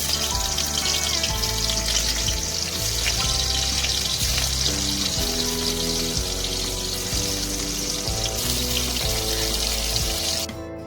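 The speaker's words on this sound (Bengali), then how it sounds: "হয়ে গেছে আমার আলু ভাজা করা।" Potatoes frying in oil in a wok give a steady, loud sizzle with bright crackle that runs unbroken through the whole stretch, with no talk over it.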